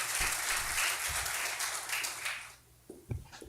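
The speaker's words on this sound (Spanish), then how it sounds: "Recibámosle con un fuerte aplauso" Audience applause welcoming a guest lecturer at a university talk on democracy and global governance, a sustained round that fades out, followed by a few scattered claps and stray sounds.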